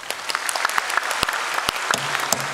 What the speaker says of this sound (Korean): 한 번 더 교사들 한번 박수해 주세요